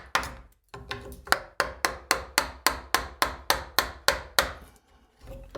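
Steady rhythmic strikes of a mallet driving a chisel to chop a blind mortise in wood, about a dozen sharp knocks spaced evenly after a brief pause, close and alone.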